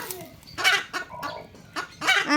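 A laying hen clucks nearby in short, throaty bursts, three or four uneven calls rising and falling with quiet pauses between.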